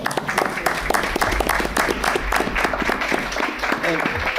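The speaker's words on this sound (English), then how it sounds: "Please join me in one more round of applause for them." Audience applause at a school board meeting honoring nutrition services staff, a steady dense patter of many hands clapping at moderate loudness with voices mixed in.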